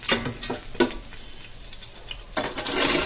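Green chillies added to hot oil, with a few quick clinks and sizzling bursts, a quieter stretch, then a rising steady frying hiss near the end, close up with no voices.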